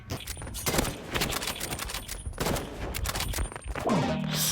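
Gunfire in the video game Marvel Rivals, bursts of rapid shots and weapon effects coming in clusters over a few seconds with a rising sweep near the end; no talk over it.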